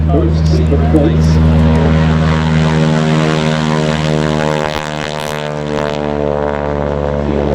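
A C-47 propeller aircraft flies past at the Duxford air show, its loud, steady piston-engine drone dominating throughout, with a faint voice talking underneath.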